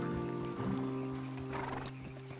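Horses snort and shift their hooves in Red Dead Redemption 2, with a close snort and a soft clop of hooves over a low outdoor ambience.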